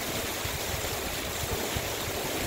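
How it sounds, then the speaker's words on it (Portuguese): Heavy night rain in Pirangi do Norte, Parnamirim, pours down as a loud, dense, unbroken roar of water that fills the whole stretch with no voices. "Olha essa chuva, gente."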